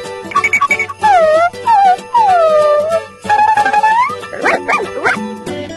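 A toy robot dog gives a run of synthetic, warbling electronic barks and whines in an uneven series, loud and close, with no talking.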